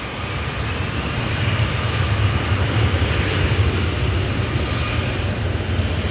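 A loud, steady roar of an airliner's engines during takeoff at Toronto Pearson Airport, sustained and close throughout.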